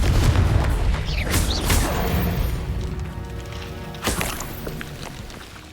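A Confringo fire-blast spell detonates in the game Hogwarts Legacy, a loud booming burst followed by a second explosive hit near the end, over a rumbling, busy game soundscape.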